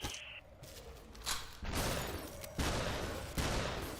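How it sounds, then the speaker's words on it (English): Gunshots in the video game SUPERHOT, a dense run of loud, close bursts and blasts that overlap into a continuous barrage with several sharp onsets. "You can take his gun with full amount of bullets and just shoot them."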